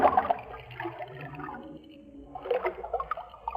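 A cartoon elephant drinking river water, heard as gurgling, sloshing slurps in two bursts separated by a quieter pause, fairly soft and alone.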